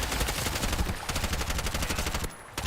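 Rapid automatic gunfire in the shooter video game Bright Memory Infinite, a dense, continuous stream of loud shots that cuts off briefly near the end, with no talking.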